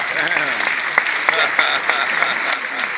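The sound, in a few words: audience applause after a magic card trick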